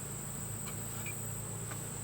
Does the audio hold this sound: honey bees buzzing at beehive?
yes